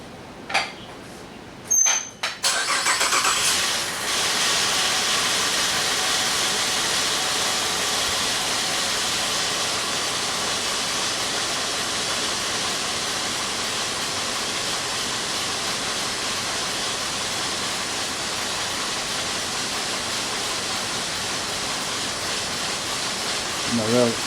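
A car engine idles steadily with a broad hissing roar during an exhaust back pressure check for a plugged exhaust bank, with a few sharp knocks near the start.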